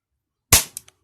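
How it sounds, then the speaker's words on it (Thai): A mini gas blowback airsoft pistol fires once at a target with a sharp, loud crack, followed by two quick fainter mechanical clicks as the slide cycles, in an otherwise quiet room. "ก็จะยิงให้ชมดูนะครับ"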